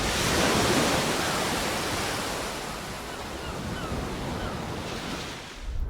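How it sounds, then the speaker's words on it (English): Ocean waves wash in a steady, broad roar of surf that swells slightly and then eases, loud and continuous with no voices, ending abruptly. "Now this is how ocean waves sound here on Earth."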